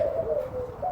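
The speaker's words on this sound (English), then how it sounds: "Yeah, there's a pigeon there." A pigeon coos at a farm that also keeps doves, quail and pheasants, giving a steady close call that lasts the whole moment with no talk over it.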